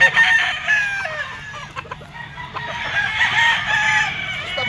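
A bull stag gamefowl rooster crows loudly and close at a poultry market, with clucking and other fowl in the background.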